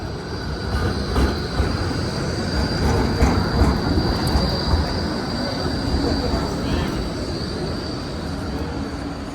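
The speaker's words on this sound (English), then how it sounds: "What you see is an E-Class tram on Route 58." An E-Class tram on Route 58 in Melbourne passing by, a broad steady rumble of rail wheels and motor with faint squeal, fairly close and continuous for several seconds.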